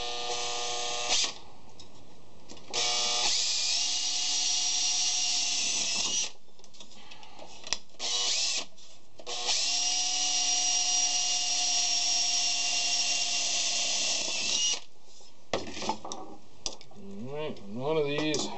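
Small electric drill boring a hole while building a magnetic drop light, running in several steady whining bursts of a few seconds each with short pauses between, close and fairly loud.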